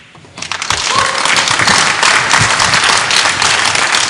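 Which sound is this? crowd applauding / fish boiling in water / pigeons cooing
crowd applauding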